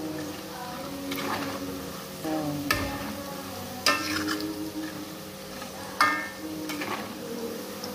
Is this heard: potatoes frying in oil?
yes